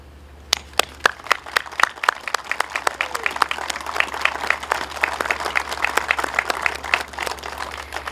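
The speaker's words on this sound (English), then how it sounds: "we're going to give them a round of applause" An audience applauds donors at a groundbreaking ceremony, beginning with a few scattered claps that swell into steady, sustained clapping from a modest crowd in a room.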